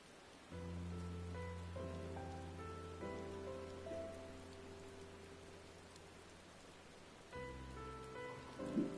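Rain falling in the video game Final Fantasy XIV, a steady wash of drops over the ground with sustained musical tones playing underneath, and no speech.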